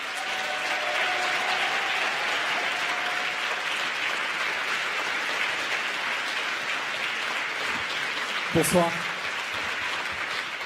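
Crowd applause and cheering at a France Insoumise political rally in Montpellier, a steady wash of clapping throughout, with a short spoken greeting and a brief sharp sound near the end.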